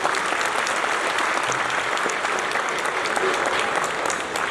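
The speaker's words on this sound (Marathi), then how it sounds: "तुमच्या टाळ्या जर तुम्ही छान वाजवल्या तर त्यांच्या लक्षात राहील" An audience at a regional drama convention in Mahabaleshwar claps loudly and continuously, a dense even roar of applause from a large crowd that holds steady throughout with only a slight dip at the very end.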